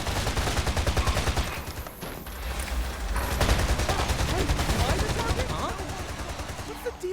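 Rapid automatic gunfire in the action game Freedom Wars Remastered, dense bursts of shots running nearly continuously and loud throughout, mixed with other battle noise.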